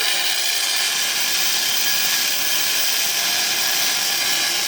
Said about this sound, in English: Just started welding the hitch on.